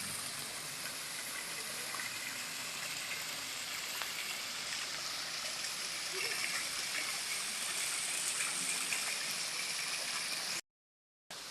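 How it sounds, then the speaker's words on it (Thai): Rushing water pours continuously in a steady broad roar, like a waterfall nearby, with no voices. "วันนี้น้ำตกสวยเลยนะ"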